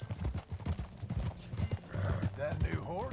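Horse hooves clip-clopping as a rider sets off in Red Dead Redemption 2, a steady close trot mixed with a brief whinny and talk over it.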